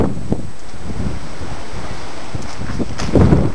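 Wind gusting across an exposed granite hill at Enchanted Rock, buffeting the microphone in rough bursts with a steady windy hiss beneath, loudest toward the end.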